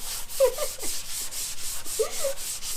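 Rhythmic back-and-forth sanding rasps steadily, a soft repeated scrubbing with faint incidental clicks in the background.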